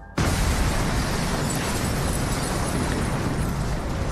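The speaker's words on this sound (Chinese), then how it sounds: "爆炸摧毁了所有疫苗" An explosion in a Resident Evil film destroys a facility's stock of vaccines, bursting in suddenly as a loud, dense blast that settles into a sustained roaring rumble of fire and debris, with no voices heard.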